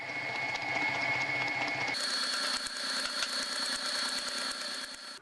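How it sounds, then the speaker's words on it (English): An electric hand mixer whirs steadily, beating cake batter with melted chocolate and vanilla for a gluten-free Victoria sponge; a mechanical buzzing hum that shifts pitch partway through as the speed changes, close and continuous with no talking. "Turn the mixer down to low and add the vanilla extract, then add the melted chocolate and beat to mix"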